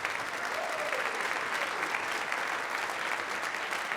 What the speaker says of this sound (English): Go ahead and clap it up for the kids.